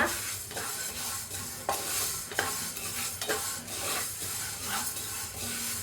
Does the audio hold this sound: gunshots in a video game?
no